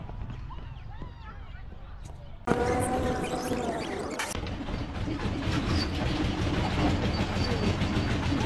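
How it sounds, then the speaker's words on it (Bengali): A toy train pulls out of a platform built in British-era style near Kolkata, modeled on Howrah station. After a sharp onset it settles into a steady, close rumble and rattle of rolling stock, with faint voices in the background. "টয় ট্রেন একটা ছাড়ছে এখানে"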